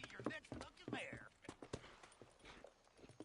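Horse hooves clop steadily in a Western video game, partly masked by overlapping speech and other game sounds.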